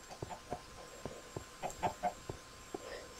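Chickens clucking in the Minecraft video game: a string of short, evenly spaced clucks, fairly close and clear, with a few louder clucks bunched near the middle and no talking.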